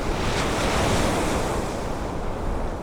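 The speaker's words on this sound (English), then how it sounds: "Nous commençons à traverser le passage de Drake." Ocean waves surging through the Drake Passage on the way to the Antarctic Peninsula, a steady, loud wash of surf mixed with gusting wind and microphone buffeting, continuous and close with no voices.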